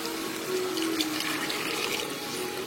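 Water pours steadily into a pot of cooking dal for several seconds, a continuous close splashing rush at moderate level with no talking.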